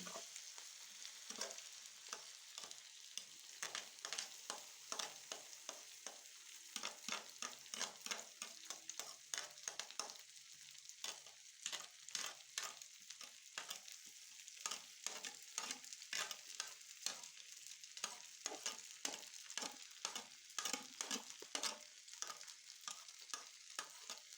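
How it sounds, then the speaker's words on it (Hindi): Grated potatoes fry in hot oil on a griddle, a steady bright sizzle with rapid crackling and soft scraping spatula strokes running throughout. "ऑयल हमारा गर्म हो चुका है। अब हम इसमें जो है आलू शामिल करेंगे कद्दूकस किए हुए।"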